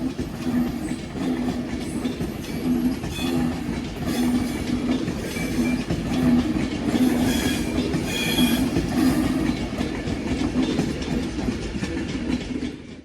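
Avanti West Coast Pendolino, unit 390044, rushing past at speed on a London Euston to Edinburgh service, a loud steady roar of wheels and rail noise with rhythmic clickety-clack lasting throughout.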